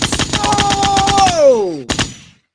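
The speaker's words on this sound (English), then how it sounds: "I meant to hit gunshots!" A soundboard fires a rapid, evenly spaced burst of machine-gun-style shots during a Knicks versus Brooklyn Nets basketball watch-along, with a loud falling tone sweeping down through the volley before one last short burst fades out.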